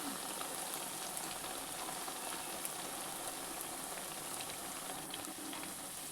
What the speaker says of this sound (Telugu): ఇలా దూరగా వేగించుకోవాలి